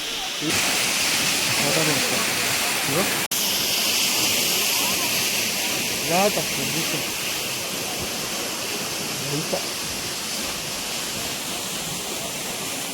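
The Rampa waterfall in Andhra Pradesh roars in a constant, full rush of water, with faint voices occasionally audible beneath the steady noise.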